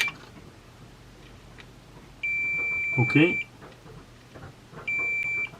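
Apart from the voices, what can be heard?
Fluke multimeter continuity beep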